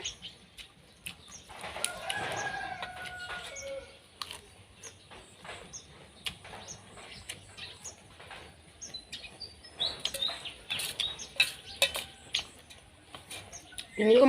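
Birds chirp and call in scattered bursts, with some clucking fowl mixed in, outdoors at moderate distance.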